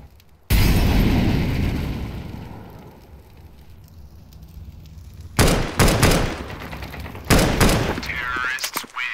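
A planted bomb in Counter-Strike 2 on the map de_thera detonates with a sudden loud blast and a long rumbling decay, followed later by sharp bursts of gunfire and impact cracks.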